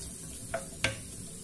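A spoon stirs rice vermicelli with tuna and bell peppers in a pan, two short scraping clinks over a faint, steady sizzle, close and quiet.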